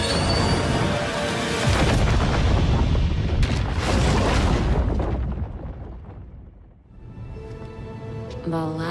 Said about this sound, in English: The Lazarus pit was completely destroyed in the explosion.